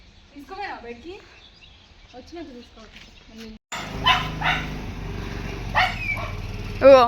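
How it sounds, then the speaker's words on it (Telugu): A dog barks repeatedly nearby, sharp yelps over a noisy background, with people talking in the first half. "మా కుక్క చూడండి ఎట్ట అరుస్తున్నాం"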